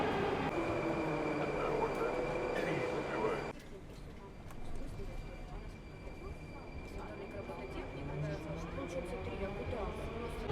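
Moscow metro subway train riding through a tunnel at rush hour, a steady rumbling roar of wheels and carriage noise that drops abruptly in level partway through, with someone talking over it.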